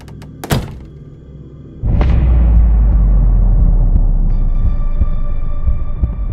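A loud thunk opens the clip as a bedroom door opens and closes, followed by a low rumbling hum that continues steadily and shifts partway through as the sound changes.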